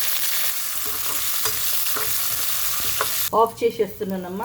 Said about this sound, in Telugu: కరివేపాకు వేస్తున్నానమ్మా.